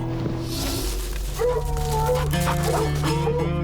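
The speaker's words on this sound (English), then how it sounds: "dogs start sounding off" Hunting dogs barking and yipping on a bobcat track in the Rocky Mountains, several excited overlapping barks and whines at moderate distance over a low rumble.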